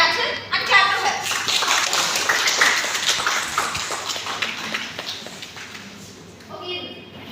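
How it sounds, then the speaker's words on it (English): Students in a college classroom clap for a classmate in a short, scattered burst that fades over several seconds. Voices talk over and after the clapping. "clap for her"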